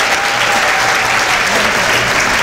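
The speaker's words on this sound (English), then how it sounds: "Give everybody a big round of applause." Audience applauding graduating seniors at a Somali graduation and scholarship ceremony in Ohio, a dense, steady wash of many hands clapping throughout, loud and close with a faint crowd murmur.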